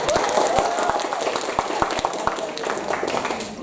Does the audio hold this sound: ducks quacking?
no